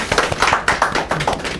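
A few hands clap unevenly for a moment at a community forum in Gwangjin, making sparse, close, tapping claps with short gaps between them.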